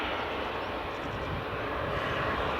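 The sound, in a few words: WestJet Boeing 737 taxiing at Edinburgh Airport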